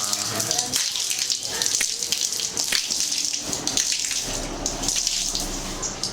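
Water is poured forcefully while cleaning a metal surface during summer cleaning, a steady broadband splashing and gushing that runs the whole time, close and fairly loud, with faint voices mixed in.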